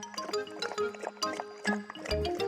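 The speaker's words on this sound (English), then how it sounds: "Snuffy happily drank the water." A cartoon dog laps water from a bowl, with quick rhythmic wet slurps and little drips repeating close up.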